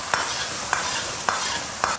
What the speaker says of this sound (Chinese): 泡椒还有干发椒，继续给它们煸炒。